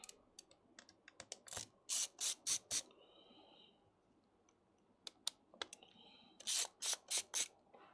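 Small screws are worked out of a laptop battery with a screwdriver: two quiet clusters of crisp clicks and ticks, each ending in a run of sharper rhythmic ratchet-like clicks, close up with no talk.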